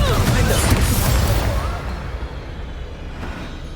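A Confringo explosive spell goes off in Hogwarts Legacy combat, a loud boom-like burst that trails off into a fading rumble over a few seconds.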